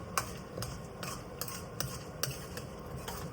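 Chopped onions being stirred and fried in a pan for drumstick curry, with steady sizzling under sharp, regular clinks of a spoon against the pan, close up, with no talking.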